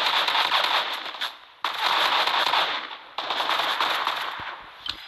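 Gunshots in the video game Fortnite ring out loud and close in three long bursts of rapid, crackling fire separated by brief pauses, with no talking.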